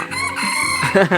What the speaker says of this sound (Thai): เสียงไก่ขันเสียงอะไรเข้ามาเป็นแบบ